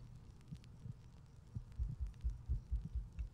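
Low, muffled heartbeat thumps in a video game, a steady double-beat rhythm, faint at first and then growing louder and closer, with no other sounds around them.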